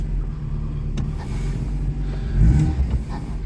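A Ford XR2 classic hot hatch, a barn find under repair, idles steadily close by with a low engine rumble and a brief swell in revs partway through, no talking over it.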